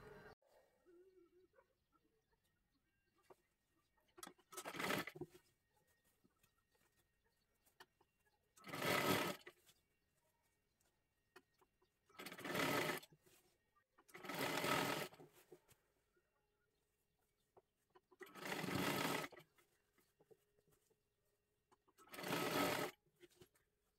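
Electric sewing machine stitching a round seam on a girl's long one-piece dress, running in six short whirring bursts separated by quiet pauses.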